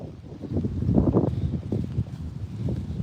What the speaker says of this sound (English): Could you guys not hear me over the wind?